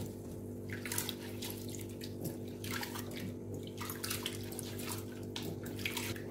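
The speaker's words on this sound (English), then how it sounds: "we'll wash this till the water runs clear" Rice is rinsed in a bowl under running tap water, giving a steady close gush with soft sloshing and splashing throughout.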